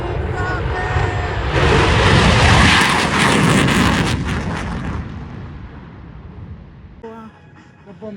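An F-16 fighter jet takes off at the Chippewa Valley Air Show, accelerating toward 400 mph on under 1,000 feet of runway. Its roar swells into a loud, broad blast, holds for a few seconds, then fades into the distance.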